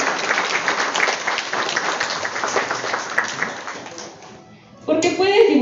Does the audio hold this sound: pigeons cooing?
no